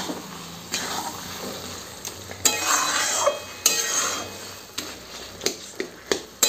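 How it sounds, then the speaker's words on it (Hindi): A spoon stirs and scrapes a poppy seed posto dish with pumpkin in a pan, steady mixing with clinks against the metal and a faint sizzle underneath, close and continuous. "अच्छे से सिर्फ इसको मिक्स करिए और ये रेडी है।"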